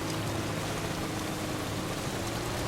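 Steady rain from the video game Death Stranding, an even, continuous wash of falling drops with no breaks, moderately loud and close throughout.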